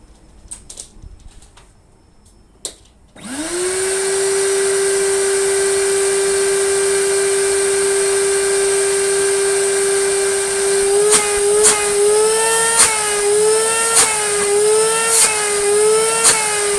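A heavily abused 2018 Henry Wet & Dry HWD370-2 vacuum cleaner starts after a few faint clatters, then runs with a loud, steady motor whine and airy hiss close by, its pitch wobbling toward the end.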